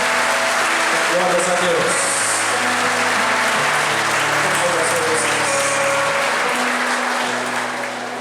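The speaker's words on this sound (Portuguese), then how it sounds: "Uma salva de palmas para os aniversariantes." Church congregation applauding for birthday celebrants at a pastor's birthday service, sustained steady clapping for about eight seconds with voices speaking over it.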